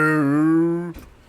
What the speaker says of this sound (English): That's the news belch.